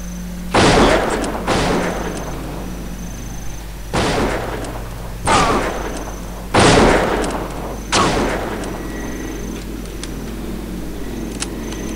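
Gunshots in the video game Deadly Dozen, six sharp separate reports spaced irregularly over a low steady background hum, each with a short fading tail, no voices.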